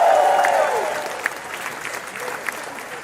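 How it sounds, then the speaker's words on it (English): An audience bursts into applause that starts loud and then thins out into scattered claps, with a faint voice or two over the crowd. "Give yourselves a round of applause."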